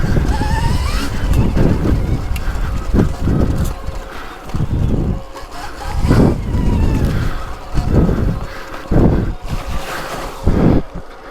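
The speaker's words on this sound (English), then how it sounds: "You can just hear the tires gnawing for traction." Knobby tires of a Stark Varg electric dirt bike churn and scrabble for grip on a wooded trial-riding loop, a series of loud, gritty crunching bursts every second or so over steady wind rush close to the rider.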